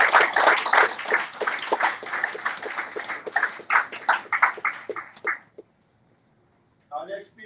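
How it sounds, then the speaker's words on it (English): Audience applause at a campaign event for a judicial candidate: a dense burst of many hands clapping fills about five seconds, then stops abruptly into silence before a voice speaks. "Please, let's have another round of applause."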